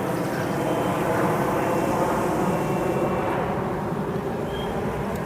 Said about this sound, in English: and there goes the plane again